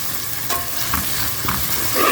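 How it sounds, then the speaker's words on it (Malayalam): Tomato paste frying in oil in a pan for a fish curry, a loud continuous sizzle with a few stirring scrapes, heard up close and with no talking. "ഒരു table spoon tomato paste add ചെയ്യുക അതൊന്ന് ഇതിലിട്ട് ചെറുതാക്കി ഒന്ന് എണ്ണയിൽ തന്നെ മൂപ്പിച്ച് കൊണ്ടെടുക്കുക"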